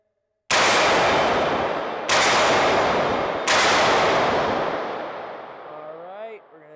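Three loud, close AR-15 rifle shots fired at targets outdoors, each sharp blast followed by a long ringing decay, the last fading into a brief warbling tone.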